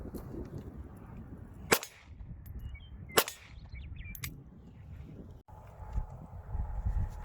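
Pistol shots at an outdoor shooting range, three sharp separate cracks spaced a second or more apart over a soft ambient background with faint wind.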